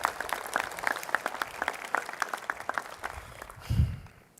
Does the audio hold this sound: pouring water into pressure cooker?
no